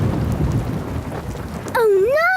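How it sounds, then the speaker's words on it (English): Steady rain roars through a cartoon thunderstorm with rumbles mixed in, and a loud, wavering wail cuts in near the end. "It's a thunderstorm!"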